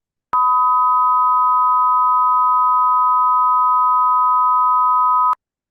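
Two steady pure tones four semitones apart sound together as a loud, unbroken electronic chord for about five seconds, beginning and ending abruptly with nothing else present.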